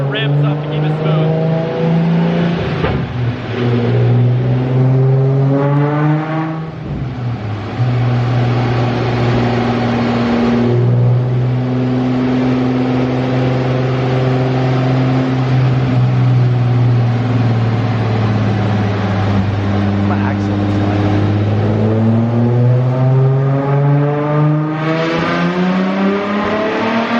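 A Nissan 350Z engine fitted with progressive nitrous pulls steadily and loudly for nearly the whole stretch, its pitch climbing, dipping briefly, then rising again smoothly without any sudden hit, with no voices over it.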